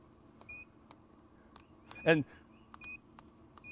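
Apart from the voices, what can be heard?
smoker beeping when turned on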